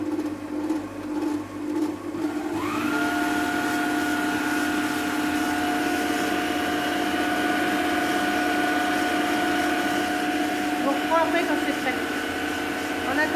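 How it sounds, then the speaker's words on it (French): A kitchen robot food processor switches on after a couple of seconds and runs steadily with a loud, even motor whine and hum, close by and continuous to the end. "On va pouvoir commencer à mettre le robot en route."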